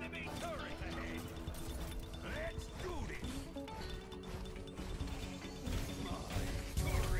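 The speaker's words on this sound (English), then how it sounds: "Your turret is down, dude." A turret is destroyed in the shooter game Overwatch with a sharp smashing crash, set within a dense, continuous wash of game effects and background music, with in-game voices mixed in.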